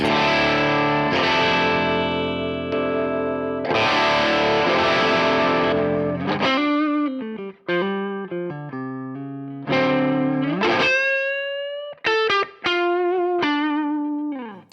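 Electric guitar through an overdrive pedal at zero gain and about 75% volume, mild overdrive, sustained chords followed by choppy single notes and short riffs, fairly loud and alone.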